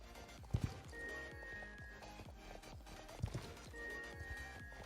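A horse's hooves clip-clop in a steady rhythm while it is ridden in the video game Star Stable, with a few louder thuds. A faint musical tone plays underneath.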